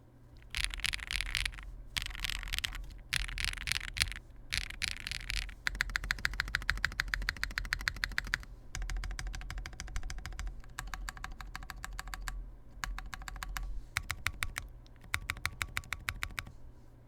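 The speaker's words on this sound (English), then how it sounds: "if you like clack, these are the switches for you" Clacky mechanical keyboard switches on an Aeroboard70 build are typed in quick bursts of sharp, close clicks, with short pauses between runs and no voices.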